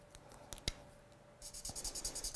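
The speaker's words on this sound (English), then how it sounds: "So I'll do a swatch on this piece of card here." A marker swatching two colours onto a piece of card, a few quick scratchy strokes followed by a rapid rhythmic scribbling run, close and quiet.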